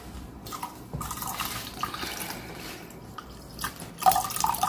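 Water is poured into a sink drain, a soft, close, uneven splashing and dripping that grows a bit louder toward the end, with no voices.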